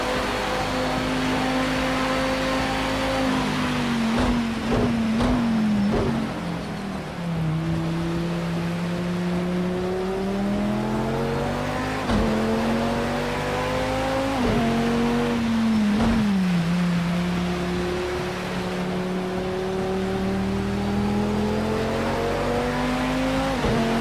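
A race car lapping a circuit in the Assetto Corsa racing game, its engine droning loud and steady throughout, pitch climbing through the gears and dropping sharply on downshifts, with no talk over it.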